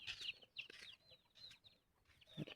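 Chickens roaming near trees and a fence along a beach route by the Buckingham Canal give faint, scattered clucks and short calls at a distance, with quiet gaps between them.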